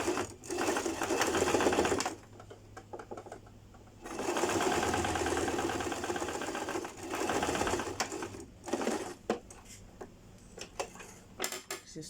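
A sewing machine joins bodice pieces for a princess-seam bodice in loud, steady running bursts, stopping and restarting several times, with shorter stitching spurts toward the end.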